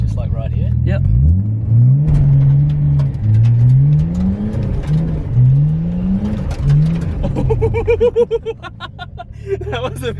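A Nissan Skyline R33 engine revs repeatedly in rising and falling sweeps, loud and close, before a sharper burst of throttle and drivetrain noise as the clutch is kicked, with people talking nearby.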